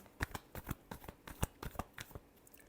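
Tarot cards riffled and shuffled in a run of crisp, rapid snaps and flutters, close and fairly quiet, with no talking.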